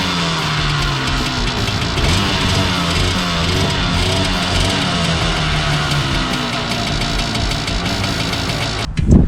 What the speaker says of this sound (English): got the old funky clunky stock exhaust still on it.